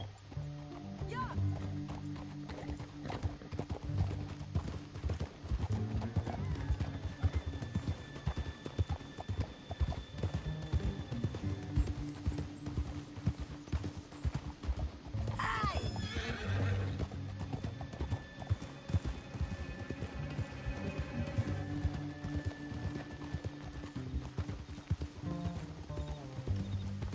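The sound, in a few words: horses galloping and neighing in video game Red Dead Redemption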